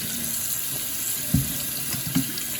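A kitchen tap runs in a steady hiss while a sink is cleaned, with a couple of soft knocks and clunks from dishes or hands in the basin and no talking.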